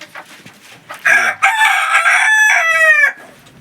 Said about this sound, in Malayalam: ഒറിജിനൽ ആയിട്ടുള്ള കരിങ്കോഴി ഉണ്ട് കരിങ്കോഴി ആട്ടോ